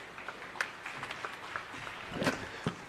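Audience applause at a political event in Punjab: a moderate, fairly distant patter of clapping hands, continuous throughout with a few sharper claps standing out.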